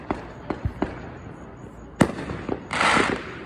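Fireworks bursting at a Fourth of July show, a series of sharp booms and cracks at a moderate distance, ending in a longer crackling burst, with no talking.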